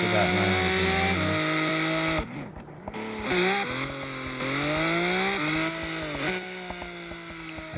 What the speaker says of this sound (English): It's very loud, the exhaust